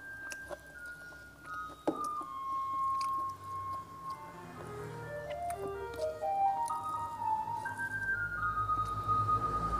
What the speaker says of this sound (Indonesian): Gangguan mobil sampah.